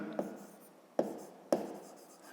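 A pen writes on paper in a quiet room, producing three soft, distinct taps or strokes close to the listener.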